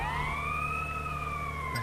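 Police car siren in GTA Vice City Stories wails steadily with a smooth rising and falling tone, loud and close over a low engine hum, continuing alone through the whole stretch with no talk.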